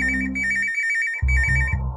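A phone in the horror video game Traum rings in electronic bursts. The first pulsed ring is followed by a short gap, then a second, louder ring begins, close and clear with no talk.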